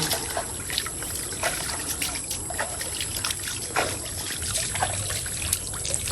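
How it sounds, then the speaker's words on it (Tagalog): A tap runs steadily as someone washes their hands in a rural garden setting, a continuous close trickle and splash of water with small irregular splashes throughout. "si Bossing po yung naghuhugas na po ng kamay"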